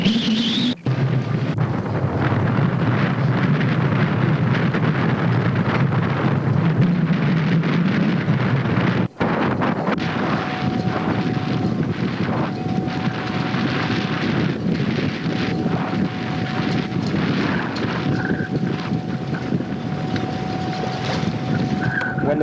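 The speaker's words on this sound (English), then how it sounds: "Listen to the wind blow." Strong wind gusting across a marina of sailboats such as a Tanzer 26, a loud continuous roar with microphone buffeting and a faint steady tone emerging partway through.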